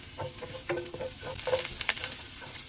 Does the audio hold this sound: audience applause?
no